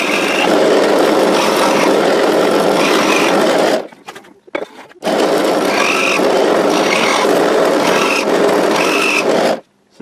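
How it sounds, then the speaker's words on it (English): A drill bores 13mm ferrule holes a couple of millimetres deep into an Epiphone SG guitar body, a loud, steady, close whine with two brief pauses. "we're going to drill these 4 ferrule holes for the new gold ferrules"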